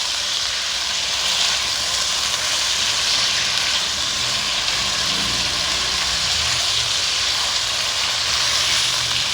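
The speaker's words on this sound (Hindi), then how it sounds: "ये देखें, ये हमारी चिकन फ्राई हो रही है" Chicken pieces frying in a pan for dahi masala chicken give off a continuous, even sizzle with a bright hissing texture and no breaks.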